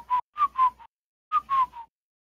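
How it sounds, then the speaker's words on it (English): A person whistles a short tune: four quick notes, a pause, then three more, clear and close with nothing else around. "Kind of whistling."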